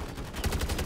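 Rapid automatic gunfire from the Modern Warfare 3 Zombies video game, a fast string of about six evenly spaced shots at moderate volume.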